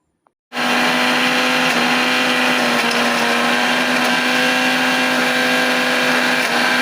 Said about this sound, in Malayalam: ഇനി ഇത് നമുക്ക് മിക്സിയിൽ വെച്ച് നല്ലതുപോലെ ഒന്ന് അരച്ചെടുക്കാം.